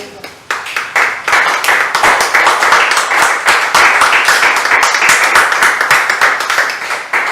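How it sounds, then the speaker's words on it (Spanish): Church congregation applauding during a sermon: a loud, lively round of hand clapping with distinct individual claps rising quickly and holding strong, close and energetic throughout. "¿Quién le da un aplauso al Señor?"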